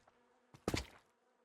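One short, close buzz from bees in the Minecraft Productive Bees mod rises abruptly and fades within half a second against near silence.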